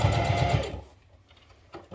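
A sewing machine stitches seams on a fabric basket kit, running loud and steady for under a second before stopping, followed by quiet handling noises.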